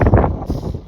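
Sea wind gusting hard against the microphone at a seaside lookout, a brief loud rumbling buffet that fades toward the end.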